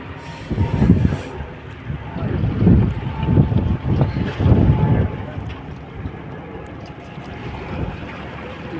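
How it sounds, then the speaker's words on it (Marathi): Strong wind buffets a small fishing boat during hook-and-line fishing at sea, a loud, steady rush of wind roar and microphone buffeting with gusts swelling over the first half before easing slightly. "वारा पण खूप आहे मित्रांनो"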